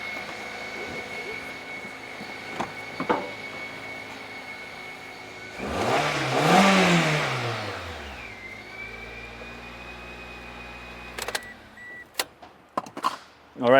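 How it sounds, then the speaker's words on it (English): A Toyota Corolla engine idles with a steady hum, then revs up once with a rising roar and settles back down, followed by a few sharp clicks and knocks. "the engine is running. The engine sounds good, actually. I'm gonna rev it up a little bit."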